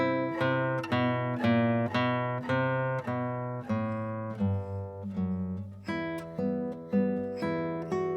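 Classical guitar playing the bass solo from the piece "Vals" with a rallentando: plucked single notes and chords ring clearly up close, the even pulse slowing noticeably near the middle before picking back up.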